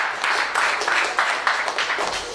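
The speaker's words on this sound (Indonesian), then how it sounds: "jadi aplaus buat beliau" An audience claps steadily, a short burst of applause from a room of listeners at an open-mic talk, even and moderately loud with no voices over it.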